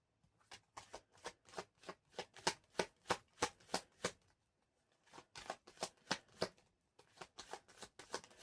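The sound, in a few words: shuffling tarot cards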